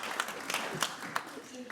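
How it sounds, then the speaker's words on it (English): Symposium audience applauds briefly: a close, moderately loud spatter of scattered hand claps, with a few sharper individual claps standing out. "Let's give Hunter an applause."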